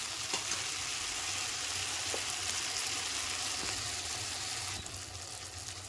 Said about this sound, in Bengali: 5 মিনিট হালকা লো ফ্লেমে আমি মশলাটাকে কষতে থাকবো